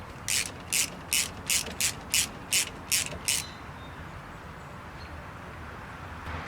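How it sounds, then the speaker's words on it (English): Ratchet tightening an alternator bolt on a 2013 Hyundai Elantra: nine brisk, evenly spaced clicking bursts up close, then quiet with a faint background hum. "So as I'm tightening this, you can see the alternator moving up."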